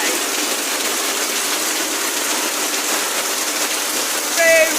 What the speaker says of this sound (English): It's seriously rainy here, guys.